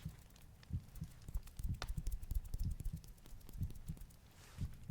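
A heartbeat imitated on a microphone: soft, low thumps in an irregular throbbing rhythm, close and muffled, with no voices.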